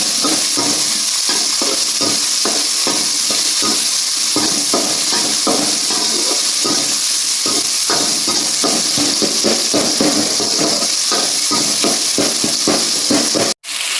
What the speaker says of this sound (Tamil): மக்களே, நாங்கள் இன்னைக்கு சிக்கன் வறுவல் செய்கிறோம்